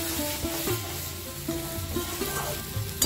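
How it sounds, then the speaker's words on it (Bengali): Broccoli sizzles and fries in a pan with green chillies, a steady close crackle punctuated by stirring clinks and scrapes, with no talking. "এবার আমি ব্রোকলিগুলো দিয়ে দেবো, দিয়ে একটু কষিয়ে নেব।"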